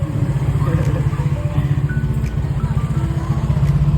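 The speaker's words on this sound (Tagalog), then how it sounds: "Dito ko na nga pala niyan pinark sa may labas yung motor ko na si Snow dahil puno na sa loob." A motorcycle's engine idles close by with a steady, low, throbbing putter that holds an even rhythm throughout.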